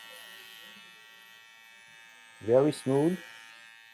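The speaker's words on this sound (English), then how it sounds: "now I know where to stop with my shaver" An electric shaver trims afro hair during a low fade haircut, giving a steady, close buzz that runs through the whole clip. Someone speaks briefly near the end.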